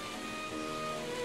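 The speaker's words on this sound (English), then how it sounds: "It's UK rain out of nowhere." Steady rain falls in Minecraft, a dense continuous hiss with no breaks that holds at an even, moderate level throughout.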